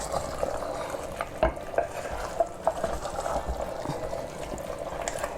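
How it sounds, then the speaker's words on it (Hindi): Handi mutton masala being stirred in a pot with the lid opened, a steady low simmer and sizzle with scattered scraping and clinking spoon strokes against the pot. "मैंने ढक्कन खोल के वापस इसको चला रही हूँ।"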